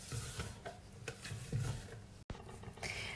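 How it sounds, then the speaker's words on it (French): Egg whites are stirred into barquette batter with a utensil scraping a bowl, producing soft repeated swishes and clicks close by, with one brief dropout partway through. "Donc je mélange jusqu'à ce que mes blancs d'œufs soient intégralement incorporés à ma"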